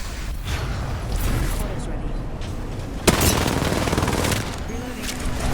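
Video game gunfire in a multiplayer match, rapid bursts of shots and a sharp louder crack midway over a dense noisy background, with players talking throughout.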